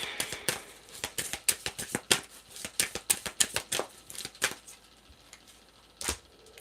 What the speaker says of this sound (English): Did you not see me shuffle these cards?